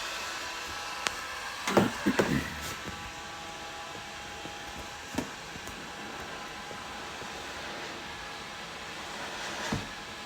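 A heat gun blows hot air onto the back side of a dented plastic car bumper, a steady broadband whoosh held throughout, with a few faint clicks and bumps of handling.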